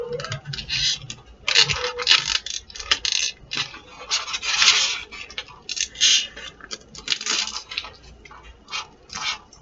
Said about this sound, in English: we'll just kind of wrap each piece of tape around the tube